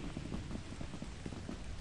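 Rain falling in the video game Brutal Company, a steady, even patter of drops with no voices over it.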